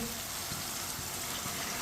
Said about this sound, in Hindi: अब इसमें पानी डालेंगे।